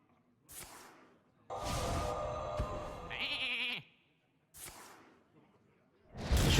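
Sheep bleats from the Hearthstone digital card game, a few short synthetic bleats and a sustained game effect with whooshing bursts, separated by brief silences.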